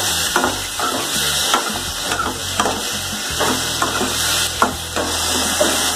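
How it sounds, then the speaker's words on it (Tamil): Tomato and onion sautéing in a pan with a pinch of salt, for Chettinad chicken rasam, give a steady close sizzle broken by regular scraping stirs of a utensil against the pan. "சீக்கிரம் தக்காளி வெங்காயம் வதங்கிடும்"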